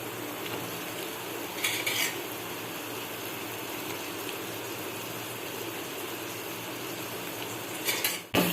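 Three large chopped tomatoes sautéing with onions in a pan, a continuous close frying sizzle with brief clinks of a utensil stirring against the pan.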